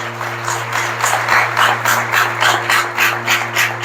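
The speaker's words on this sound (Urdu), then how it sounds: "آئیے ایسے خدا کے لیے زوردار تالیاں جاتے ہیں" A church congregation claps during a sermon, a loud, rhythmic round of applause with regular surging beats over a steady low electrical hum, and no voices on top.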